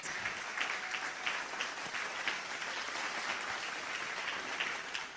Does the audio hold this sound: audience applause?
yes